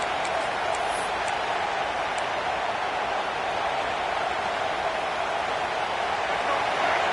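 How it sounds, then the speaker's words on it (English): Football stadium crowd at a Georgia versus Clemson game roaring steadily during a red zone defensive stand, a dense, continuous wall of cheering noise with no pauses, heard from within the stands. "This crowd is trying to inspire this defense to make a big red zone stop."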